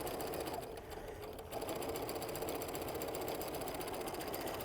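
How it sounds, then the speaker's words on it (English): A sewing machine runs steadily, stitching a quarter-inch seam in jumper fabric for a patchwork pillow, its fast mechanical whir continuous and close with only a brief dip near the start. "I'm gonna do a perfect 1/4 inch seam"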